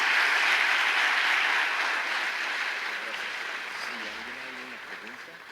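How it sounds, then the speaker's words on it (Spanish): A crowd claps loudly in a sustained wash of applause that slowly fades, with a voice starting to speak toward the end. "Fuerte ese aplauso otra vez para Gunter Pauli"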